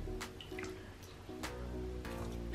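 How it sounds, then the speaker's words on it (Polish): Water squeezed out of a makeup sponge over a bowl, soft irregular splashes and drips falling back into the water, close and quiet against faint background noise. "tutaj robię w misce, wyciskam sobie"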